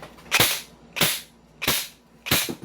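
An airsoft M4 rifle firing in single-shot mode, four sharp cracks about half a second apart, each with a short hissing tail, close and loud with no talk.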